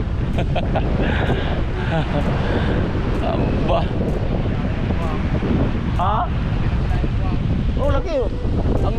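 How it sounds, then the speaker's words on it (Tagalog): Loud, gusty wind pummels the microphone continuously while people speak intermittently beneath it, with rough water noise in the background. "Lakas ang hangin."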